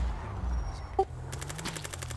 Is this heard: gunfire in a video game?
yes